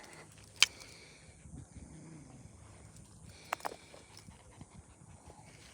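Three dogs pant at a dog park outdoors. The panting is faint and low under quiet background noise, with a couple of brief sharp clicks.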